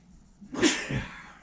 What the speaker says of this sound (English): I got a sneeze